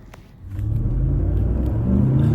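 A car engine rumbles loud and close while warming up, swelling after a quiet start into a steady deep drone.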